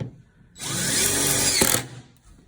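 A power drill drives a 3/4 inch screw during an Efloat Lite installation, a loud steady whirring buzz lasting over a second before cutting off abruptly, heard up close with no talking.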